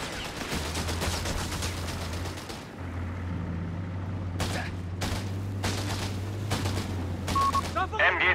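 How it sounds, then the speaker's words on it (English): Enemy machine-gun and rifle fire in Company of Heroes 3, rapid rattling bursts and scattered shots over a low steady hum, with sharper volleys late on and in-game voices calling out amid the shooting. "Enemy fire! Enemy fire!"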